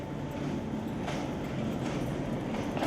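Crowded trains at a station in Myanmar give a steady, loud rumble with faint rattling, heard throughout without any voices.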